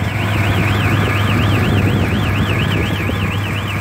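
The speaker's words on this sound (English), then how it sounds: "You hear the warning alarm." A rail speeder's turntable warning alarm gives a steady warbling electronic tone that rises and falls continuously over a low mechanical hum, loud and close.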